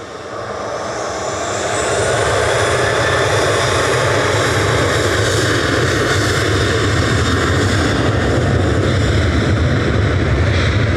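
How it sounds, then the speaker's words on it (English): A Ryanair Boeing 737-800 departing Manchester Airport, its jet engine roar swelling over the first two seconds and then holding loud and steady, with no voices. "Ryanair 6842 to Prague going next, another 737-800 ENR this time, heading out"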